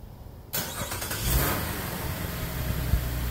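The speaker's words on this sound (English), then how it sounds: "So yeah, just crank the car up" A car engine cranks and catches after a brief quiet moment, then settles into a steady, fairly loud idle with a few small revs, started remotely while the owner stands outside the new car.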